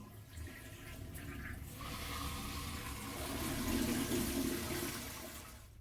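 Water rushes and hisses steadily as a toilet tank refills through a Korky Universal Platinum fill valve, swelling gradually louder, then cutting off abruptly at the end.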